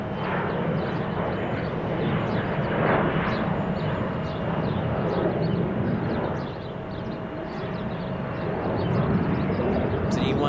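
Embraer E175 jet airliner at Salt Lake City International Airport, a steady broadband engine roar holding for the whole span, loud and fairly close, with a faint high whine running through it and no voices.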